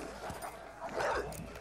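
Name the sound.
dogs attacking a man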